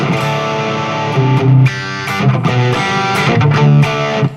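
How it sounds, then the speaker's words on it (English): Electric guitar through a Seymour Duncan 805 distortion pedal, playing thick, sustained chords with a gritty, saturated tone, loud and steady with a few brief pauses between strums. "is from the new Seymour Duncan 805 distortion pedal, which is like phenomenal"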